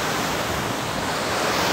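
Ocean waves crashing at the sea, heard as a dense, loud, continuous wash of surf mixed with wind noise on the microphone, steady for the whole stretch with no talk.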